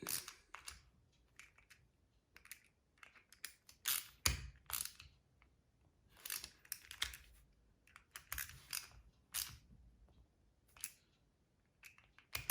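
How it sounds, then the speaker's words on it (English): Screws being tightened on an RC car differential in a crisscross pattern, with soft close clicks and small metallic ticks in irregular clusters against near silence. "When you're tightening this up, I like to go, do a crisscross, and you just tighten it till it stops"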